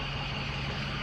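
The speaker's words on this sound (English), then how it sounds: "I'm just sitting here idling right now." A truck engine idling with a steady low rumble and hum, even and continuous, close by and without any voices.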